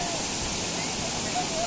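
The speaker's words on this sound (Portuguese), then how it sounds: "na parte de cima da Cachoeira da Graciosa" Rushing water of the Cachoeira da Graciosa waterfall heard from the top of the falls, a continuous broadband roar filling the whole moment with no breaks.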